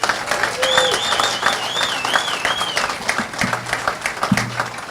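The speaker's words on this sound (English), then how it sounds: "Let's give them all a round of applause." An outdoor crowd at a feast and festival gives a round of applause for elected officials, scattered clapping with a few whoops and whistles rising over the hand noise.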